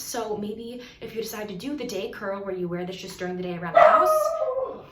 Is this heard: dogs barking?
yes